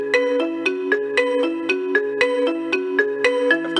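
A Lenovo Smart Clock speaker plays a ringtone, a bright, loud melodic chime pattern of quick repeating notes in a bouncy rhythm, alone without voices.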